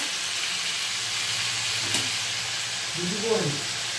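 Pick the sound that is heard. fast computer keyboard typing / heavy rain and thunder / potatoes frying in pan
potatoes frying in pan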